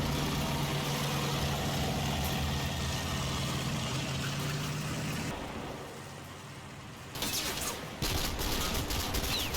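Sustained small-arms fire crackles through a firefight in the WWII wargame Combat Mission Fortress Italy, set on a Tunisian hilltop, with a steady low engine drone underneath, a brief lull, then renewed bursts.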